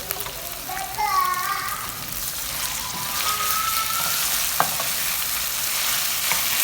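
Mutton frying with onion and freshly added ginger-garlic paste in a karahi, a steady broadband sizzle with faint stirring scrapes running continuously at moderate loudness.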